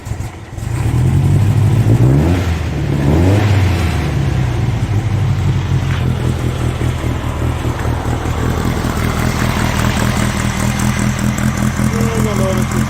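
Old-school custom VW trike engine revving from idle with a lopey, uneven cam rhythm, loud and close, with repeated throttle blips rising and falling over a steady rumbling idle.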